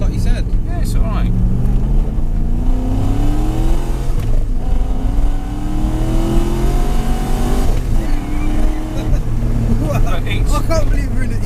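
A supercharged 4.4-litre V8 in a BMW E30 Touring pulls hard, its engine note climbing through loud, sustained revving sweeps with a brief shift dip, heard from inside the car while occupants talk.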